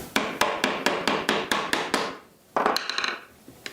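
Wooden clamps clicked and tightened on a guitar frame during building, a steady series of about nine sharp knocking taps, then a quick cluster of rattling clicks, close and fairly loud.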